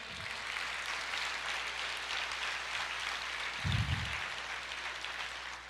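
A church congregation applauds during a sermon, a faint, even wash of many clapping hands heard from a distance, steady throughout with a brief low thump near the end.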